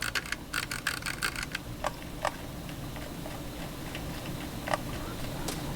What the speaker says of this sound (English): Scroll wheel wise, the Logitech is pretty loud.